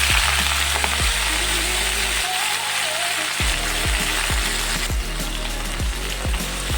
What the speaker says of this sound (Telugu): ఇప్పుడు ఇందులో మనం పాలకూర యాడ్ చేస్తాం.